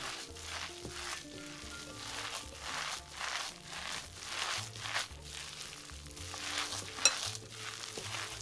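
Albondigas meatball mixture being mixed by hand, with repeated soft squelching and sticky rustling strokes in a steady rhythm at close range.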